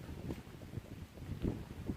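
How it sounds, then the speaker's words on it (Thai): A cool wind blows through a chestnut forest, buffeting the microphone in soft, uneven gusts with no other clear sounds. "ลมเย็น"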